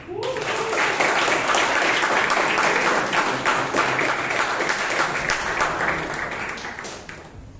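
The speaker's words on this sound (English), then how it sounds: "With a thunderous sound of applause, please help me in welcoming Toastmaster Karunakar Dev." Loud, dense applause from a Toastmasters club audience welcoming a speaker to the stage, a sustained roar of many clapping hands that tapers off near the end.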